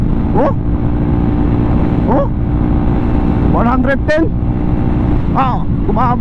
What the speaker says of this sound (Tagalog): Parang nagagalit yung motor ko ah.